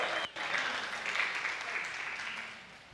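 A burst of applause, dense clapping that starts abruptly after a short pause and holds steady, fading slightly toward the end.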